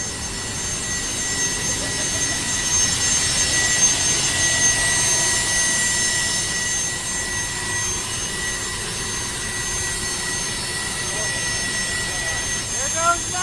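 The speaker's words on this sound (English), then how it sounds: "That is a freaking jet engine, you guys." Steady jet engine roar from a PMDG 777-300 airliner in a flight simulator game, a continuous loud hum with a high whine on top, holding level throughout with faint talk underneath.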